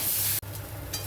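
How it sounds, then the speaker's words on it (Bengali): Taro and potatoes frying in a pan are stirred, a close, bright sizzle with scraping that cuts out for an instant and then returns, with no talk. "কচু আলুটা ভাজা করতে বেশ সময় লাগবে, তাই আমি একটু নেড়ে ছেড়ে ঢেকে দিচ্ছি।"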